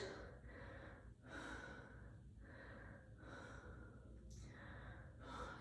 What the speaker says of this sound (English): Take some deep breaths right there